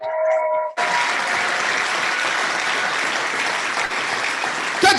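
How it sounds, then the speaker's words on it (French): After a brief tonal snippet of music, an audience bursts into applause at a marketing presentation and keeps clapping steadily at moderate volume, with a faint sound at the very end. "S'il vous plaît, applaudissez pour ça."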